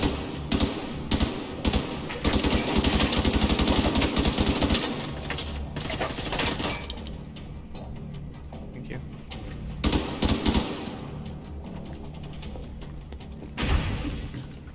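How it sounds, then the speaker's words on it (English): Gunfire from The Division 2 crackles in rapid automatic bursts, loud and close at first, then thinning into sporadic shots with a few later flurries, while players talk over the shooting. "I'll keep on firing at him"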